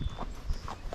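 Hooves of a ridden Rocky Mountain Horse, a gaited breed, thud on the ground as it moves at a slow step-pacing gait. The clip-clop beats come close and fairly loud, spaced unevenly, with no talking.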